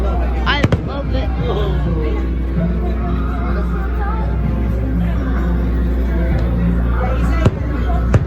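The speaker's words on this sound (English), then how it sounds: "Why do firework sounds come late, not early?" Fireworks at a Disney firework show in Orlando, with a couple of sharp distant bangs over a continuous rumble and crowd babble as people talk nearby.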